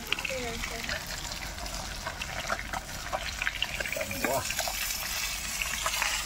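Small sarpunti fish fry in hot oil in a small kadai, a continuous close sizzle and spatter running beneath a man's conversational speech throughout.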